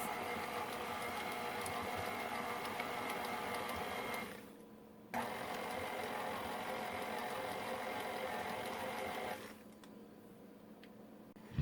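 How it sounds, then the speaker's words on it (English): Cassava pone batter for a Trinidad-style dessert is being mixed, heard as a quiet, steady mechanical whirring that cuts out briefly twice and then resumes. "I'm just gonna mix this a little bit and then I'll add the rest of the ingredients."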